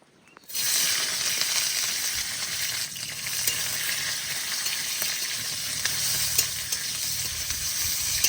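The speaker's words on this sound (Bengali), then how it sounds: "এবার সাদা তেল দিয়ে ক্যাপসিকাম আর কাঁচা লঙ্কা ভেজে নেব" Capsicum fries in white oil in a hot kadai. After a brief silence it bursts into a loud, continuous close-up sizzle that holds steady with small crackles.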